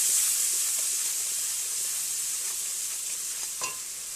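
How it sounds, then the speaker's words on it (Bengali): Ground spice paste with a teaspoon of turmeric powder fries in a pan for a hilsa-in-poppy-seed dish, giving a steady, close hiss and sizzle that fades slightly, with a small clink near the end. "আবারও ভালো করে মশলাটা ভাজতে থাকবে"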